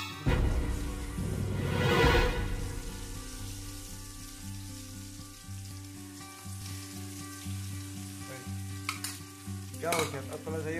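An egg frying in a pan sizzles steadily at close range, with stirring or scraping noises near the start and a few brief clatters toward the end.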